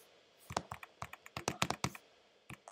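Someone types codes on a computer keyboard in quick uneven bursts of close, crisp key taps, with short pauses between, alone and fairly quiet.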